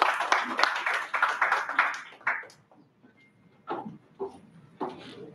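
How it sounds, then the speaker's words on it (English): Audience at a Toastmasters club meeting claps for the speakers: a short burst of sparse, close hand claps that quickly dies away, then a few scattered final claps. "Round of applause for all of our speakers."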